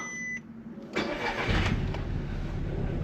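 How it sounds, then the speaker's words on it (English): Audi TT petrol engine starting while faulty: a short crank after a brief tone, then the engine catches and settles into a loud, rough, shaky idle close by. "Let's give the car a start and I'll show you."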